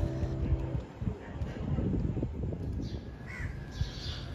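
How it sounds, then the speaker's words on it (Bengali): Crows caw repeatedly over faint wind and ambient murmur on a morning at a Varanasi ghat, the calls fairly close and intermittent. "আজ সকালে ঘুম ভাঙলো পাখির আওয়াজে"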